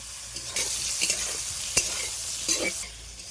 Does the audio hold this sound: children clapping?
no